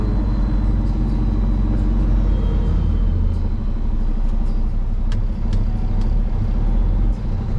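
A truck engine idles and pulls with a heavy, steady low rumble close up inside the cab, loud and continuous, with faint clicks above it and slight dips that may be gear changes; no talk.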